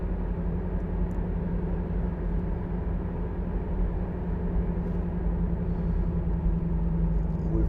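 Inside a 2011 Honda CR-Z 1.5 IMA Sport three-door cruising at 50 mph, a steady low engine and road rumble drones on evenly with no talking.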